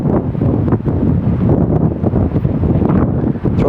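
Wind gusting across an open hillside on a disc golf course, a loud, steady rushing roar buffeting the microphone throughout, with no talking.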